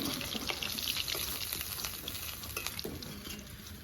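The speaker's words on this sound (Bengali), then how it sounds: "মাছ ভাজা হয়ে গেছে এবার আমি তুলে নেব" Fish frying in hot oil over a lively fire, a close, continuous crackling sizzle with scattered sharper pops and spits throughout.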